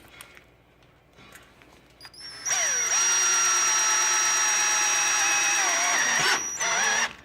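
A power drill drives a 5/16 inch self-tapping screw while a safety handrail is installed on a deck. Faint handling noises come first, then a loud close whine holds steady for about four seconds with a quick final burst.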